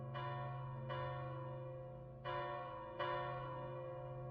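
Alarm bells of a city in a tabletop fantasy campaign ring out with four resonant strikes, each leaving a long humming tail under a steady low drone, loud and alone with no talking.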